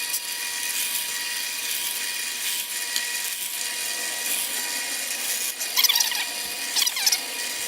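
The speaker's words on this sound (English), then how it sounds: "Now I'll drill some strategically placed holes so I can punch this through pretty easily with a jigsaw." A drill bores holes through wood while a feather board is being made, giving a steady high whine that stays close and loud throughout, with squealing bursts near the end.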